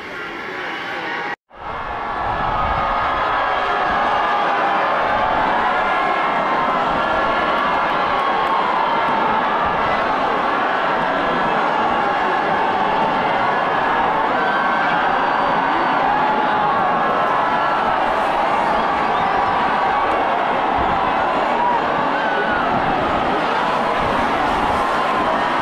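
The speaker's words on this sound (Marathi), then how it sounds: "पण जल्लोष इकडं झालेला आहे म्हसोबावाल्यांचा." A large crowd cheers and shouts continuously at the Raiba Devi yatra festival in Maharashtra, where tall 150-200 foot poles are carried. The roar is dense and steady throughout after a brief dropout near the start.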